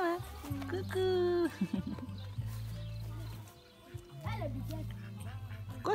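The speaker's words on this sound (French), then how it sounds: "Un canard." Duck quacking on a farm near Chablis, with several loud nasal quacks and honking calls in bursts, close by, mixed with people talking and other animal sounds.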